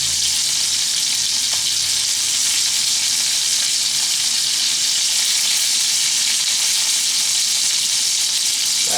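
Steak fat held down and searing in a hot pan, a steady dense sizzle that stays loud and unbroken throughout, close by with no talking.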